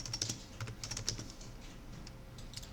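Keys tapped on a computer keyboard during CAD modeling, including the space bar, give a few light, scattered clicks close by over a low background hum, with no talking.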